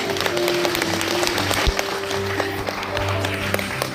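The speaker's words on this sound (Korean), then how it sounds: "큰 박수 부탁드립니다." A lecture-hall audience at a health concert applauds as a doctor is welcomed to the stage, a steady dense wash of clapping lasting throughout with a low hum underneath.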